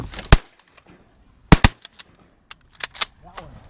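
Shotgun blasts during a duck hunt on Sauvie Island: a sharp shot, then a close pair of shots, followed by several fainter distant pops from other hunters, with quiet gaps between.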